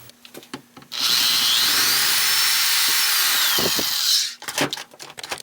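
A power drill whirs steadily into wood for about three seconds, drilling a shakuhachi flute, preceded and followed by scattered handling clicks and knocks.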